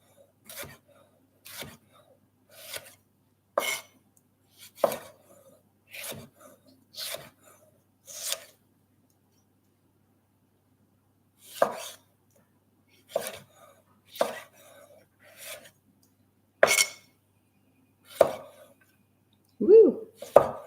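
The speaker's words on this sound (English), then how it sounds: "Take these baby tomatoes and just slice them up." A knife slices baby tomatoes on a board in a series of crisp, close chops in quick clusters, separated by a pause of silence, with no voice over them.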